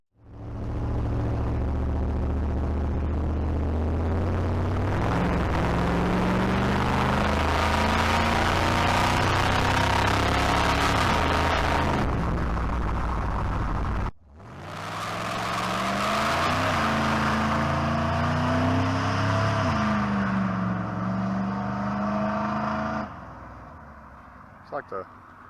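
A 413 big-block V8 runs loud and steady during a carburetor and timing tune-up, a deep continuous rumble with rising and falling revs, a brief cut near the middle before it picks back up, fading out at the end.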